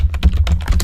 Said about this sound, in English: In my command window, I am going to type